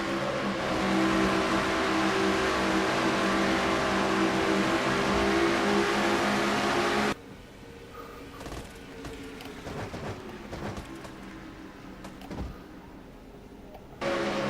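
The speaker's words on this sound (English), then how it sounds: "Those engines are straining here at Atlanta" Race car engines in a racing video game scream at high revs at Atlanta, a dense, loud continuous roar that drops abruptly halfway to a quieter, rougher onboard engine drone before the full roar returns briefly at the end.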